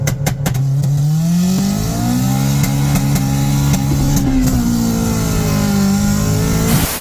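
A Honda Civic coupe engine revs hard and steadily while its tyres spin on steel spare wheels, giving a continuous loud droning whine with shifting pitch, close up, with no talk.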